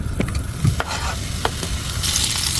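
Onion and leftover roasted chicken cooking in butter in a pan, a steady close sizzle with a few stirring scrapes and clinks, no talking.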